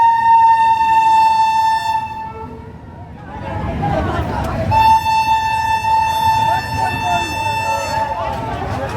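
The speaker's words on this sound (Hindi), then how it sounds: "देखिए अब ट्रेन आ गई है" Train horn blares in long steady tones at a railway station, cuts out, then sounds again as the train arrives with a rumbling rolling noise beneath, loud and close.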